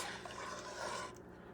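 Water pours into a simmering shrimp stew on a stovetop, a steady rushing splash that stops abruptly near the end.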